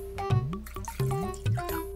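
Liquid such as tea, coffee or water pours into a cup that lights up, giving short repeated gurgling splashes and a steady tonal ring, close and clear.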